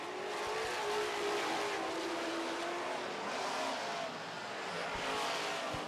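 Super stock race cars roar around a dry dirt track with feathered throttle, a continuous loud engine drone from several cars rising and falling as they pass.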